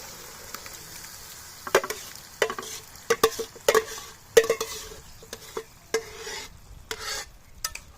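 Boiled, mashed potatoes being stirred into a pan of hot oil with bay leaf, cinnamon and black spices for a potato ghati with gorai fish: repeated scraping, knocking stirs over a steady low sizzle, close and fairly loud, with no talk.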